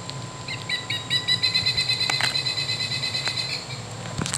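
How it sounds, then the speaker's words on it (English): Recorded pileated woodpecker call played from a Wild Republic Audubon plush toy, a run of repeated high, slightly tinny piping notes in a quick steady series, fairly quiet over faint background hiss. "Pileated woodpecker."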